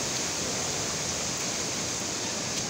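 A river flows steadily as a broad, even rush of water, constant and fairly loud throughout, with no voices.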